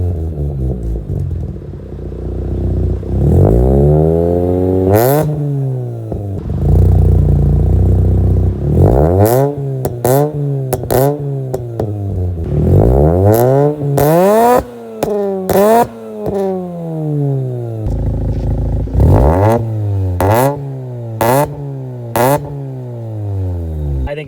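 A Mazda RX8 with an Agency Power full exhaust and Versatuner tune is revved hard again and again, each loud rev climbing sharply then dropping back, with rattly crackles between blips.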